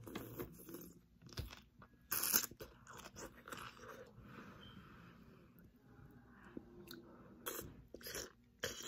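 Crunchy bites and chewing during a mukbang-style meal, several sharp crunch bursts, the loudest early on, followed by softer mastication with no talking.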